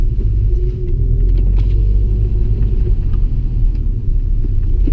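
A 2001 Audi S3 8L accelerates hard from a standstill to 100 km/h on a winding road, its engine a loud, steady rumble with road and cabin noise underneath, heard from inside the car without talk.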